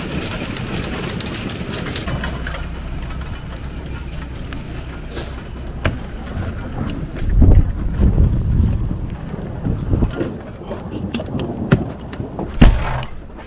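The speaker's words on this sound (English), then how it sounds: "it gets worse and the hail's getting bigger" Hail pelts an RV's metal roof in a dense, steady rattle, with heavier thumps and gusty wind rumble swelling partway through.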